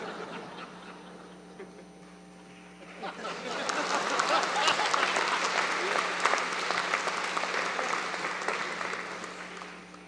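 A convocation audience breaks into applause after a quiet moment, the clapping swelling quickly and holding steady as a dense, sustained wash of many hands in a large hall with a faint electrical hum underneath.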